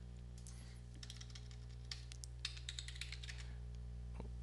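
Quick, irregular bursts of keystrokes on a computer keyboard, fairly close and clear, tapping in short runs over a steady low hum with no talking.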